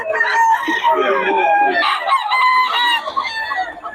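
A Sweater Henny gamefowl rooster crows close and loud in one long, strained call that breaks into a second phrase, with other fowl clucking faintly around it.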